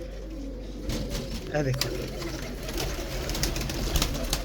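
Ferozpuri pigeons coo softly and steadily at close range, with a voice talking over the birds.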